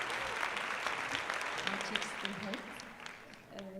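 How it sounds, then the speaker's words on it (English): Applause from a conference audience at a women's entrepreneurship event, a dense patter of clapping from a crowded room that fades slightly toward the end, with a voice speaking over it. "round of applause for Heba Al Shehhi"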